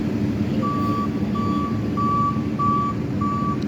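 A tow truck backing up beeps steadily, with five evenly spaced reversing tones over a low engine rumble and street noise, moderately close.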